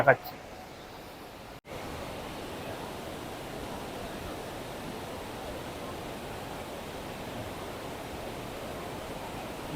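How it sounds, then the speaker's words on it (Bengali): Dassam Falls, a waterfall near Ranchi in Jharkhand, gives a steady, even roar of falling water that fills the whole scene without a break after a short sound at the start. "দশম ফলস ওই দিক দিয়ে জলগুলো আসছে এসে এখান দিয়ে পড়ছে"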